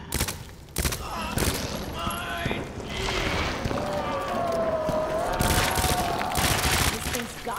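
Bursts of gunfire hit a boss in Resident Evil 2, rapid loud shots layered over game sounds and tense background noise, with a voice talking over part of it.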